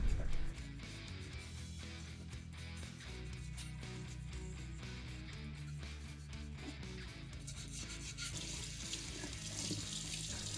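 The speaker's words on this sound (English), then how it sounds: "Now I rinse it under water." Tap water runs steadily into a sink while a cleaned lid is rinsed under the stream, a loud continuous splashing rush with shifting clatter as the lid moves through the flow.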